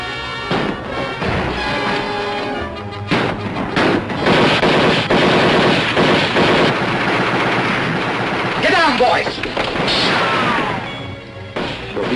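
Rapid, loud gunfire from a 1941 western film, a sustained barrage of shots and crashes filling the scene with dense, overlapping bursts and no speech.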